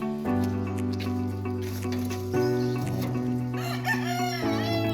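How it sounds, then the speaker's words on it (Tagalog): Roosters crowing in a backyard chicken coop, near and loud: long, overlapping cock-a-doodle-doo calls one after another, with a few clucks and light background noise. "Ito ang aking munting manukan mga ka-one shot."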